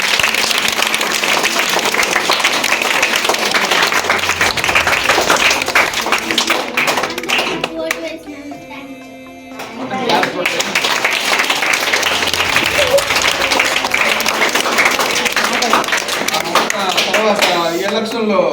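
Students applaud an election winner at a school event, a loud sustained burst of many hands clapping that dips briefly midway and then swells again, with voices mixed in.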